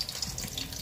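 Water runs steadily into a pot of tomatoes being cooked down, a close, continuous splashing pour with no talking over it.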